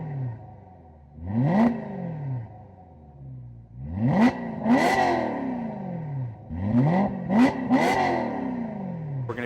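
A BMW E90 M3 engine with its exhaust valves closed revs repeatedly, each blip rising sharply then falling away, several revs in quick succession, fairly close with a muffled tone.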